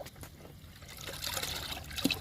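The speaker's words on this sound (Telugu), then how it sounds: "లిక్విడ్ని బాగా కలుపుకోవాలి" Liquid plant fertilizer being stirred into water, a soft, quiet swirl and trickle of liquid with a faint splash near the end, close and without talk.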